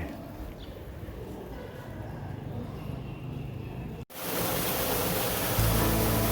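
Water rushes from an artificial waterfall at Wat Rong Khun temple in Thailand, starting as a softer background roar and then jumping to a loud, close, steady broadband rush partway through.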